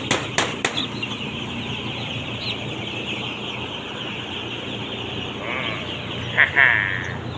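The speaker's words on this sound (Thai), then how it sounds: "ต้องไล่ให้ไก่กินอาหาร" Young chickens, about a week old, flapping their wings as they are chased toward food on a cold day, a steady rustling flutter from nearby with a few brief clucks and clatters.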